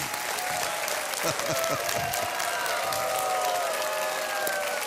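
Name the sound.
studio audience applause on a TV quiz show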